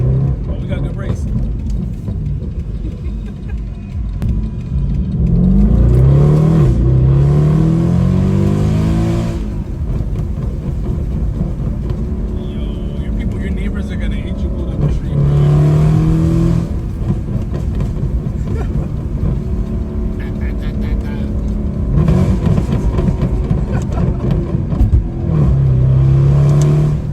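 A Mercedes W204 C63 engine revs and accelerates in loud, surging bursts that rise and fall several times, heard close up while people talk over it.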